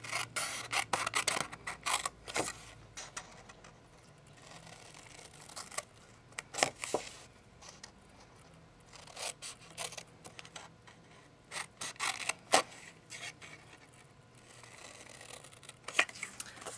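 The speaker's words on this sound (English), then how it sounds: "I'm going to just cut along my score lines and cut out those four" Scissors snip paper along scored lines for a gift card holder, producing repeated short crisp cuts and rasping slides in irregular bursts. The sounds are close and fairly quiet, with brief pauses between runs of cuts.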